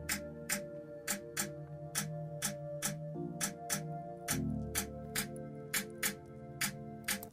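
A drum beat from an Afrobeat production with a snare added, crisp regular hits at a steady tempo over sustained bass and chord tones, loud and close with no talking.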